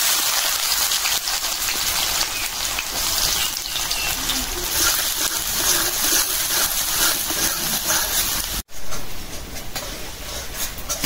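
Chopped onion hits hot oil in a pan with a loud, continuous hissing sizzle that holds steady for several seconds, broken by one brief dropout near the end.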